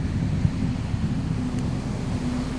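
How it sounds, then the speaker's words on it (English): Ocean waves crashing in a movie trailer, heard as a dense continuous low roar of surf and rushing water, loud and steady across the whole stretch with no voices. "I wish the crashing waves were getting louder"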